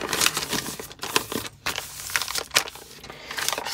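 Paper being folded in half and handled, close and loud crinkling and crumpling with irregular rustling bursts throughout.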